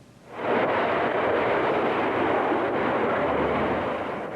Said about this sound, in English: gas explosion in Marlboro Township in Stark County that at this hour continues to roar like a jet engine.